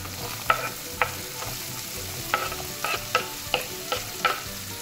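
Zucchini fry in a pan for spaghetti with mackerel, a steady close sizzle with rhythmic stirring scrapes recurring every half second or so.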